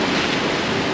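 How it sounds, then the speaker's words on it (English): Ocean waves roll onto the shoreline of Fuerteventura's wild north coast as a loud, steady rush of surf with wind buffeting the microphone. "All these waves are so cool coming in."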